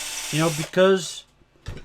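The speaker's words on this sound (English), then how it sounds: "I just want to take a little bit more time drilling" A small drill works pin holes into a resin model kit of a predator figure, giving two short squeaky, ratcheting mechanical bursts close up, then a brief quieter scrape after a pause.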